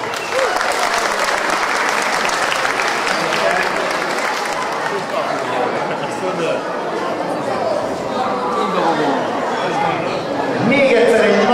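Loud, sustained applause from a crowd at an outdoor school running event's award ceremony, with cheering and chatter mixed in throughout.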